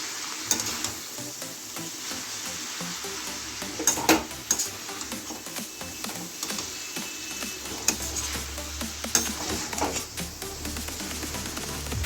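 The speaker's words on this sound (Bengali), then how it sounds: "চাউমিনটা দিয়ে দিলাম ভালো করে নাড়িয়ে নেবো" Chicken chow mein noodles stirred in a hot frying pan, a continuous bright sizzle with repeated scraping and tossing strokes and occasional utensil taps, close and steady throughout, no voices.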